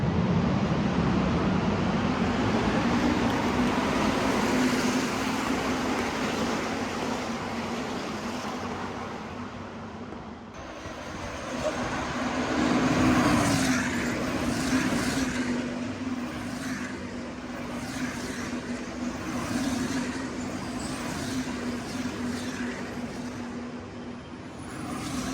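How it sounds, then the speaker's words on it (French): Race cars roar through the start of a 26-hour endurance race at Portimao, a steady loud drone of engines with a swell as cars pass close, rising and falling over the whole stretch, no talk. "on assiste au départ de la course. 26 heures d'endurance"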